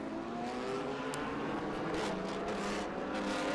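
Prototype race car at Sonoma Raceway passing on the way to the checkered flag, a steady loud engine roar with rising and falling intensity as it goes by, no talk.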